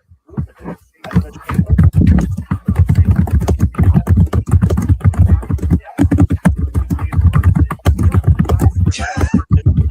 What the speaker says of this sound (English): I just hear you hitting the keyboard.